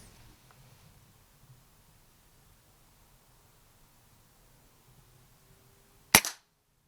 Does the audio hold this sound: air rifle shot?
yes